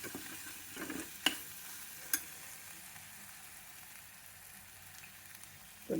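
Chopped potato and half a tomato fry quietly in a pan, a faint low sizzle with a couple of sharp utensil knocks and light stirring, soft and close with no one speaking.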